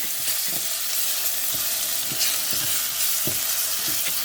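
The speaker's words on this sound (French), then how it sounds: "je vais y mettre mon riz pour le faire nacrer et imbiber d'huile" Rice toasting in hot oil with softened onion for a courgette risotto, a loud, constant bright sizzle with repeated spoon scrapes as it is stirred, close up and without speech.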